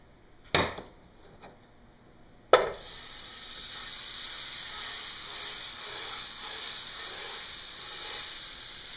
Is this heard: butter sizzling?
yes